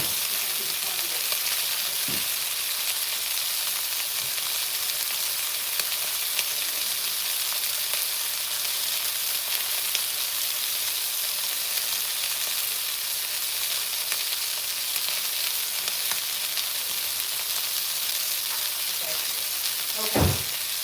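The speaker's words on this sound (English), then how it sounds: "So this is the lamb chop going" A lamb chop sizzles in a hot pan, a dense continuous frying hiss with occasional pops and a sharper crackle near the end.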